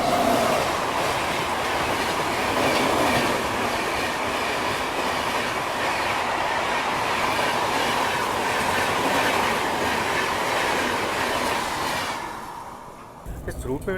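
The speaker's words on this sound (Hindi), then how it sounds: "और ये रही हमारी भुवनेश्वर राजधानी एक्सप्रेस।" Bhubaneswar Rajdhani Express passenger train rolling past close by, a loud steady rumble with rhythmic clickety-clack of wheels on rail joints, fading toward the end.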